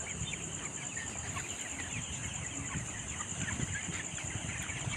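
Broiler chickens on a farm, some suffering from a cold, cluck softly in a dense, continuous crowd murmur beneath a constant high-pitched hum, faint and with no voices.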